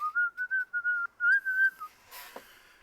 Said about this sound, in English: you enter in with a cheerful whistle